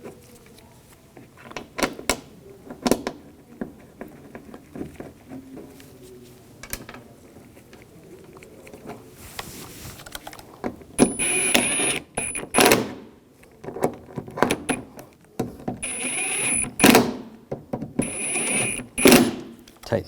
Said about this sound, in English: I'm going to put the screws in.